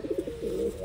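A pigeon, a dirty blue bar bird with yellow eyes and a short tail, gives a soft, close coo, a few quick low pulses running into a longer rolling note, with no talk over it.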